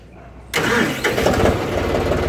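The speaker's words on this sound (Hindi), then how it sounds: "तो मैं ट्रैक्टर को स्टार्ट करता हूँ।" A John Deere 5075E tractor's diesel engine cranks and catches after a brief quiet moment, then settles into a loud, close, steady idle with a regular low rumble.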